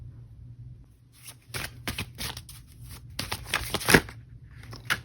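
Tarot cards are shuffled by hand close to the listener, with riffling and flicking bursts that grow busier toward the end and a sharp card snap near the close.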